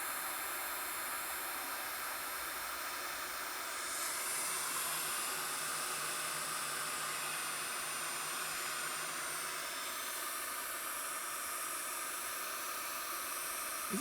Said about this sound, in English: It's a heat gun, for sure.